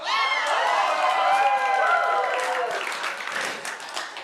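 An audience at a talk bursts into applause and cheering, with high excited whoops and shouts over dense clapping that swells and then slowly thins out.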